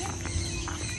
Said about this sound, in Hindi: यहाँ पे आके मैंने घोड़े भी देख लिए